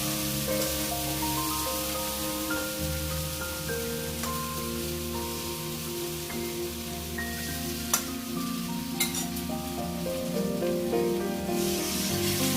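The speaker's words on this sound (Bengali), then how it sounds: "তখন আমি মাছের মাথাগুলোকে দিয়ে দেব। মাছের মাথা দেওয়ার পর একটু নাড়িয়ে নেব ভালো করে।" Katla fish heads frying in a pan of hot oil, a steady dense sizzle filling the clip with occasional stirring clicks and a soft tonal hum running underneath.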